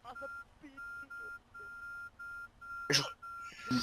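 A repeated electronic beep in the video game Arma 3, a steady even chain of short tones that runs alone at moderate volume before a burst of other game noise near the end.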